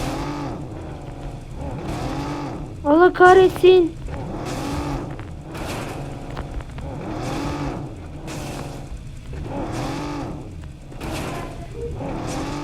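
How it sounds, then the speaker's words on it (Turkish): A car is driven in the video game PUBG Mobile, its engine rising and falling in steady waves of revving over about twelve seconds, with someone briefly speaking over it. "Ben bu arabayı nasıl buraya soktum?"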